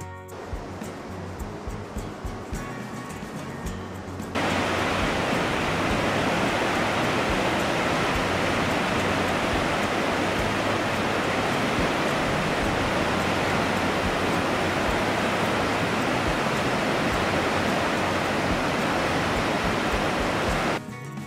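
Waterfalls at Lago-Naki in Adygea, a loud, steady broadband roar of falling water that rises abruptly after a few seconds of quieter ambience and holds constant to the end.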